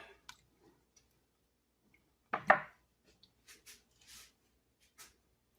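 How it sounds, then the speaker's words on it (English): Spoon stirring paprika, thyme and other spices into a pot of low-carb chili, heard as a few soft, scattered clicks and scrapes with one louder scraping burst midway, close and quiet with no talking. "Stir it up a little bit."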